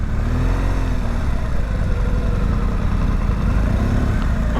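A motorbike engine idles steadily close by, a low continuous rumble that holds even throughout without revving up.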